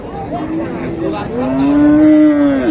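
A cow at a village cattle market in Naogaon, Bangladesh, moos twice in long, loud, close calls. The second bellow is longer and fuller than the first.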